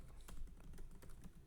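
Rapid typing on a computer keyboard, a steady run of soft, close key clicks with no talking.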